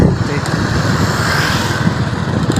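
A motorcycle rides along a bypass road beside the River Ravi, its engine droning steadily and fairly loud at close range under constant wind noise, with no clear break in the sound.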